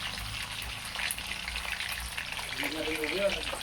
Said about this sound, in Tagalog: Piprito po muna natin para hindi maghiwa-hiwalay